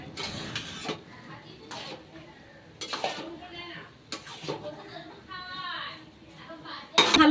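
Bottle gourd and prawns being mixed in a pan, then covered: scattered clinks and scrapes of utensils against metal in short bursts, with a final sharp clatter as the lid goes on, while someone talks between the sounds.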